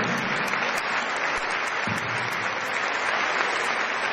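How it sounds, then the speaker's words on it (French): A concert crowd at the Zénith de Toulon bursts into loud, sustained applause, a thick continuous roar of many hands clapping that holds steady from start to finish. "on peut l'applaudir très fort"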